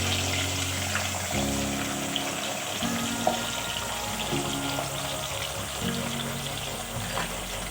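Onions sizzling on a hot tava griddle for a turnip meat curry, a steady close hiss of frying under low humming background noise, with no voices.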